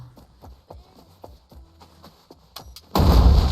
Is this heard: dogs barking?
no